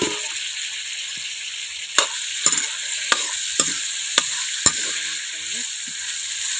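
Onions and chillies sizzle in hot oil for a dried bamboo shoot curry, a steady frying hiss punctuated by several sharp clinks and scrapes of a spoon stirring the pan.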